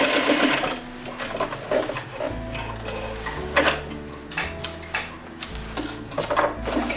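A sewing machine stitches a half-inch slipcover seam in short runs, with rapid mechanical ticking bursts broken by brief pauses and a low motor hum, close and fairly loud.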